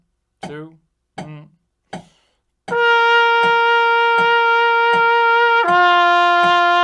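Trumpet playing exercise number 16 at 80 beats per minute, with a short spoken count-in, then sustained notes over steady metronome clicks, shifting to a new pitch near the end, close and alone.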